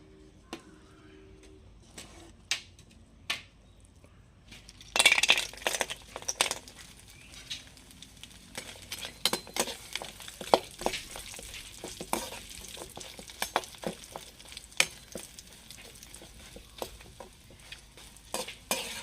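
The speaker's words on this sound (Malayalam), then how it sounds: "നമ്മൾ മുട്ട ബിരിയാണി എല്ലാം ഒന്ന് മിക്സാക്കി എടുക്കട്ടെ" Egg biryani being mixed in a hot pan: a spoon scrapes and knocks against the metal in uneven strokes while a soft sizzle runs underneath, quiet at first and then busier and steadier.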